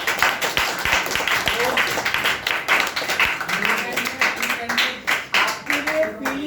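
Applause from an audience at a public speaking session, a dense spread of claps running steadily across the whole stretch, with a voice speaking over it in places.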